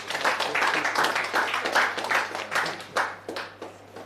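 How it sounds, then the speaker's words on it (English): Audience applause at a live media engagement event, uneven clapping that swells in bursts and fades toward the end, moderately loud over a faint steady hum. "Give China a round of applause."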